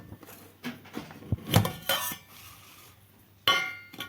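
Metal tiffin dishes lifted out of a pressure cooker give a few sharp clinks and clatters, close and fairly loud, separated by quieter pauses.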